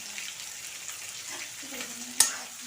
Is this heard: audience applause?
no